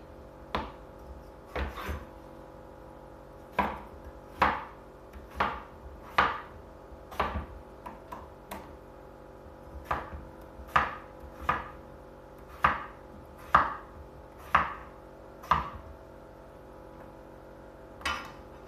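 A knife chops red potatoes on a cutting board in a kitchen, about twenty crisp, evenly spaced thunks in a steady rhythm, close and fairly loud, with a low hum underneath and no talking.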